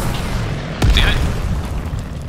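A Panzerschreck rocket detonates in Call of Duty Vanguard, a single short, heavy boom with a brief rumbling tail over steady background game noise.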